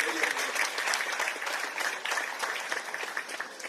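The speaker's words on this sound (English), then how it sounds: "I think Dr. Kapua deserves another round of applause" An audience at a ceremony for solar power at hospitals in Sierra Leone applauds for Dr. Kapua, a steady, fairly close round of clapping that lasts the whole stretch without letting up.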